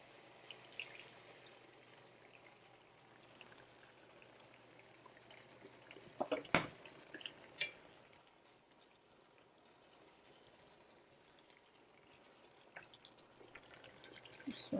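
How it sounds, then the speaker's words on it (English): Hot water poured into a cooking pot holding beef liver with green pepper, soft trickling and dripping that rises into a brief louder splash midway, then quiet stirring-like clinks, all faint and without talk. "Then, like I said, I have some hot water. I'm gonna pour a little bit in."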